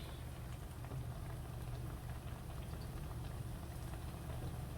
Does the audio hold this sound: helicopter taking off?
no